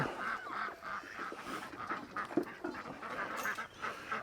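Ducks quack and honk in a noisy, overlapping cluster at a farm feeding spot, with irregular bursts of calls at close to mid range.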